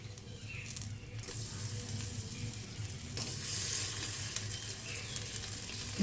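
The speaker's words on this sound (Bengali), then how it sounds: "আমি এটা তেলে ছেড়ে দিলাম" Shrimp coated in salt and turmeric frying in hot oil gives a steady, close sizzle that holds throughout with a bright crackling hiss, swelling a little midway.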